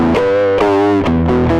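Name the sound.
Scream distortion effect, brighter after raising low-pass filter cutoff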